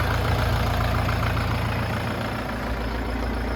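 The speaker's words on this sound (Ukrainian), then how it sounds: "от шепче двигун КМ. 490" A steady, low diesel engine of a HORST L404 tractor, a KM 490, idles close by, a continuous rumbling drone with no talking over it.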